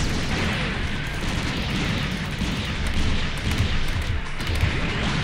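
Machine gun weapon firing in the video game SD Gundam Capsule Fighter, a loud, continuous rattle of rapid shots and booms with no pauses.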